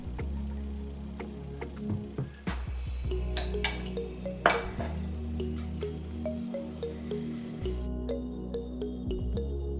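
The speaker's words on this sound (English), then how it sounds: "I'm going to put my pan drippings in, get them nice and mixed in" Pan drippings being stirred into a Thanksgiving side dish in a pan, heard as a steady run of light metallic ticks, scrapes and clinks from a utensil against the pan, fairly close and continuous, with no talking.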